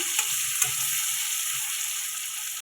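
Onions frying in oil in a pan for a Bengali cabbage dish with hilsa fish head, giving a steady close hiss with a couple of brief stir clicks, then cutting off abruptly.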